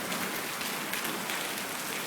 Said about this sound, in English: Hey, it's hailing.